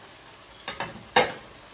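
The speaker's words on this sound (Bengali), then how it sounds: "মশলাটা ভালো করে কষিয়ে নিচ্ছি।" Dry spices fry in a pan for a Bengali chicken curry, a quiet sizzle broken by a few sharp scrapes of stirring.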